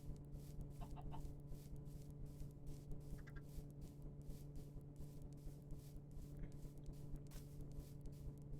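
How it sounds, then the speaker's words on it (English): A small Minecraft video game chicken gives scattered, faint clucks over a steady droning game background, with a few short bursts spread across the stretch. "I can bring Tiny Chicken along for the ride."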